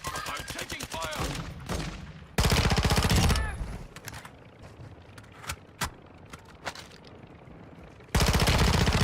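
Heavy automatic gunfire rattles in the video game Call of Duty DMZ, loud bursts broken by lulls with scattered single shots and clatter in between.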